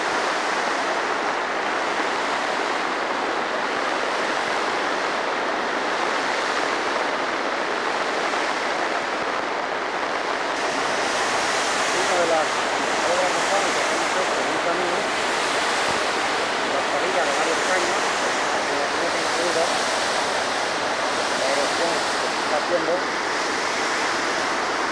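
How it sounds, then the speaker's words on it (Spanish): Steady, dense rushing water roars without pause, the Serpis river swollen in heavy rain near Cocentaina, a broad flood wash with rain-like hiss layered over it throughout. "continúa lloviendo copiosamente y aquí podemos apreciar la partida del río Celti"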